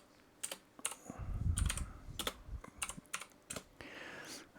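Someone types a command on a computer keyboard, a handful of separate crisp keystrokes spaced irregularly, close and quiet with a faint low rumble in the room.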